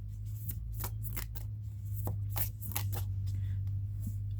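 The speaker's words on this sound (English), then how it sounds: "This way to shuffle is almost too hard." Oracle cards are shuffled by hand in quick, papery riffles and slides, close up over a steady low hum, with no talking.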